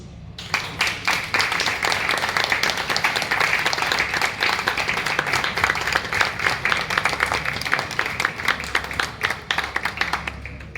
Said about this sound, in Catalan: rebem amb un fort aplaudiment a la nostra primera tro, na María Lucía Trinidad Francés